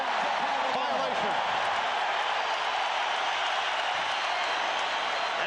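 A basketball arena crowd at Game 4 of the 1993 NBA Finals between the Phoenix Suns and Chicago Bulls roars steadily after a 24-second shot clock violation, a dense, continuous wash of noise with commentary faintly underneath.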